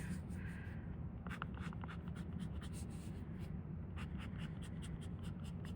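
A broad-nib Twsbi Go fountain pen scratches across paper in short, faint strokes and pauses, heard close over a low steady background hum with no speech.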